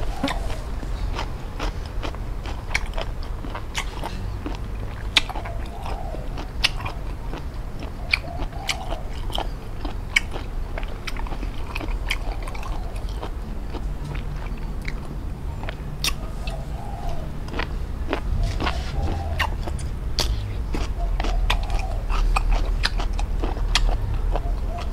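Crunchy blanched pork intestine, served with a seafood dipping sauce, is chewed close to the mic in a steady run of crisp, wet bites and mastication sounds throughout, with no voices.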